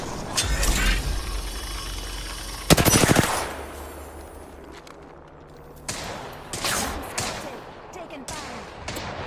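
Video game gunfire in a college football dynasty game, with sharp bursts of rapid automatic fire separated by quieter gaps and a few scattered later volleys, fairly close and loud.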